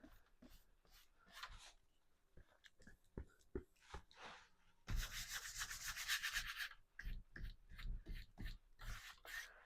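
A brush scrubs dark paint onto a landscape painting in short, rough strokes, near and continuous, rising to a denser scrubbing passage midway.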